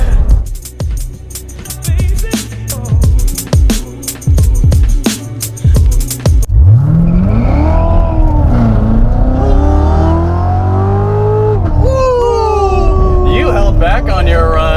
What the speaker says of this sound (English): Did you hear the tire squeal?